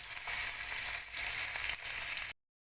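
Butter and julienned onions sizzle loudly in a hot pan, a steady close frying crackle that dips briefly twice and then cuts off abruptly.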